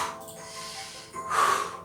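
Strong, forceful exhale through the nose and mouth during an abdominal exercise, one close breathy rush near the end after quieter breathing, with no words spoken.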